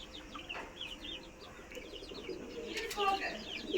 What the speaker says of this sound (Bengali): এখানে আমাদের ডায়মন্ড ডাক ঘুঘু আছে